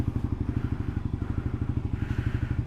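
A vehicle engine heard from inside the car with the windows closed, a muffled, low, steady pulsing drone with a regular throb, moderately loud and continuous, with no speech over it.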